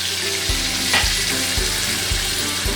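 Chicken karahi frying and sizzling in a Lahori dhaba-style pan, a dense continuous crackling hiss punctuated by regular thuds of stirring roughly every half second, close and loud.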